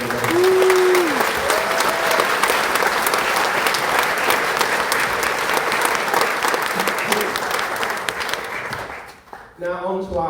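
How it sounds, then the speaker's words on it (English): An audience claps loudly and steadily at a live brass band concert at the Gala Theatre during the Durham Brass Festival, a dense wash of applause with a brief whistle, fading out before a voice speaks at the end. "So give yourselves a big round of applause."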